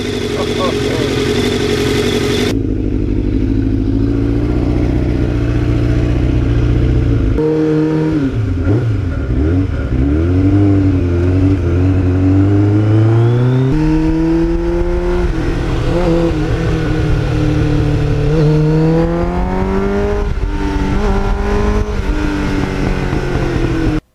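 A 1989 Kawasaki GPZ750R motorcycle engine roars loudly and continuously through a fuzzy muffler while riding, its pitch rising and falling through gear changes and acceleration, close and dominant throughout.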